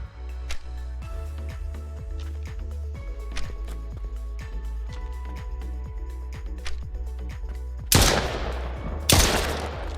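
Single pistol shots from a custom sidearm in a survival horror game, fired in a steady rhythm of about two dozen crisp reports, close and loud, with a couple of heavier blasts near the end and no talking.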